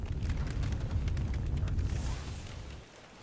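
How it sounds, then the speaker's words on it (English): In the video game Tainted Grail: Fall of Avalon, a meteorite strikes with a deep rumbling roar and crackling debris, holding loud for about two seconds before fading out. "Ooh, meteorite."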